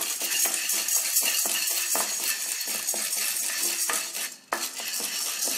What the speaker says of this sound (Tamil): கடலைப்பருப்பையும் அதே மாதிரி தான் மீடியம் ஹீட்டில் வச்சு நல்லா வாசம் வர அளவுக்கு வறுத்துடுங்க